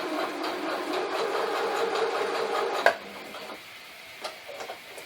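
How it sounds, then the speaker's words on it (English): A home sewing machine runs steadily, stitching fabric on a first sewing project, then stops with a sharp click, followed by a few faint mechanical taps in a quiet room. "go ahead and sew"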